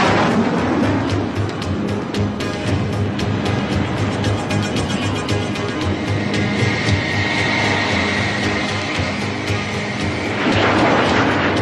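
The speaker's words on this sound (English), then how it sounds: "22 planes are in the air for this simulated attack on an enemy port" Twenty-two military jets airborne for a simulated attack on an enemy port produce a loud, steady broadband roar that holds for the whole stretch, with a rising whine toward the end.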